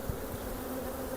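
Honeybees descended from a caught swarm hum steadily around their hive, a dense, continuous buzz of many insects close by.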